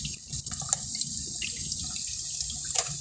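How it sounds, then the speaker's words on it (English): Water trickles and drips into a Culligan WH-S200-C whole-house sediment filter housing as it fills, a soft, steady watery hiss with scattered small drips, close and fairly quiet. "You can see the water filling up there."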